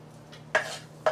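Turkey burger meat mixed by hand with grated onions, giving soft wet squelching and rustling with two sharper slaps or clinks against the bowl, close and fairly quiet.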